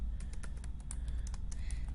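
Quiet, steady typing on a computer keyboard, with a rapid, irregular patter of soft key clicks running throughout, close up and alone.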